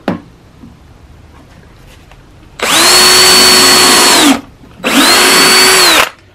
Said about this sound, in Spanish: vamos a agujerear la madera